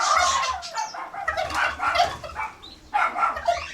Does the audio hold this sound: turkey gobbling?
yes